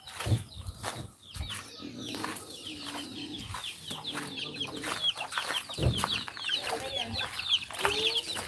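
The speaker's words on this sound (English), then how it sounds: "Now that I get to feed all the chickens," A flock of farm chickens clucks and chatters steadily as they gather for feeding, many birds overlapping at moderate distance, with a few sharper squawks and a faint voice in the background.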